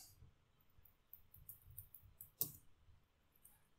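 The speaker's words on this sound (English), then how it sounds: "Let's type sickle first." Keys clicking on a computer keyboard as a short command is typed, a handful of light, close taps with one sharper keystroke, alone in a quiet room.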